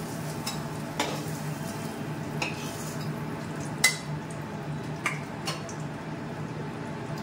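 Paneer with spices frying in a pan: a low, steady sizzle runs throughout, broken by a few sharp clinks and scrapes of a spoon against the pan, with no voices.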